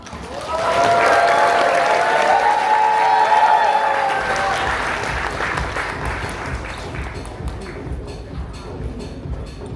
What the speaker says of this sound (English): Let's give another big round of applause, please, for that great speech from our maid of honor.